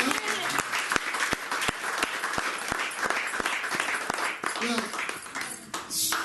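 A church congregation applauds steadily, with rhythmic clapping beating through a continuous wash of applause, moderately near, while voices talk and cheer underneath.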